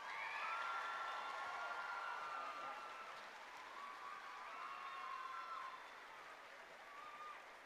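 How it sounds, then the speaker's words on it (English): Audience applause for finalists at a youth classical ballet competition awards ceremony, a steady wash of clapping with faint crowd murmur and voices, holding level for several seconds before easing slightly. "Let's give them a round of applause."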